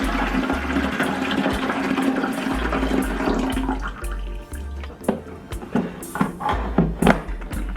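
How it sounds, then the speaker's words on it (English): Distilled water pours and splashes into the 6-liter tank of a humidifier for indoor bonsai care, a loud gurgling stream that later breaks into irregular drips and small knocks, with no one speaking. "The distilled water goes in."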